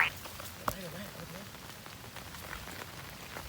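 Heavy rain pours down steadily and close, a dense constant patter during a rainy-day outing to catch crabs, fish and snails, with one sharp knock early on.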